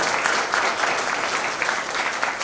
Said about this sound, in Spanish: pido un fuerte aplauso para Hugo